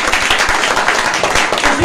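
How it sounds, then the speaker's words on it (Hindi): A church congregation at a Sunday service claps vigorously together, a brief burst of dense, close, fairly loud clapping with a few voices mixed faintly underneath. "जोरदार ताली लगा।"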